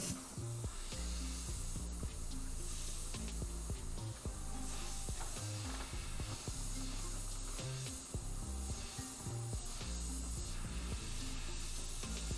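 An airbrush sprays paint on a battlefield cross with a continuous fine hiss that holds steady throughout, close and even, over a low background hum with no talk.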